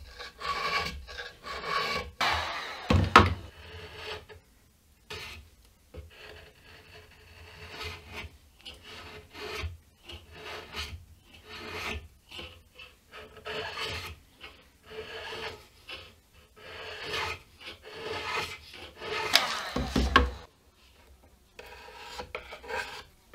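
Old finish is scraped off an Encore guitar body in long rasping strokes. The strokes come one after another with short pauses between them, close up and with no talking.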